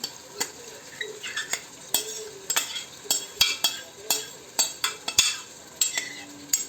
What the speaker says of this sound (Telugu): ఇందులో వేసి అది మంచిగా కలపాలి.